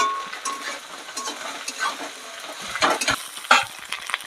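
Whole fried fish heads being sautéed with spices in a pan: irregular scraping and stirring strokes with clinks of utensil on metal over a light sizzle, close up and uneven in rhythm.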